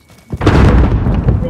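Gunfire in a first-person shooter video game: a sharp thudding burst of shots, loud and close, followed by booming game noise.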